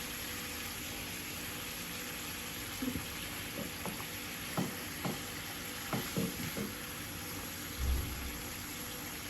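Raw boal fish being sautéed in a pan at home, heard as a faint, steady sizzle with a few soft scrapes and clicks of stirring scattered through, no voices.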